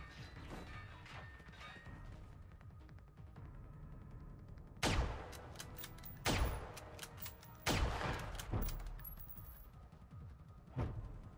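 Gunfire from the video game Generation Zero, with several loud sharp bursts and impacts in the second half over a busy, crackling background, the shots coming irregularly and close.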